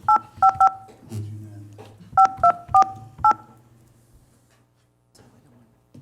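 A telephone keypad is dialed during a town budget committee meeting, with four quick DTMF tones, a pause, then four more in a steady rhythm, followed by a low hum and quiet room noise.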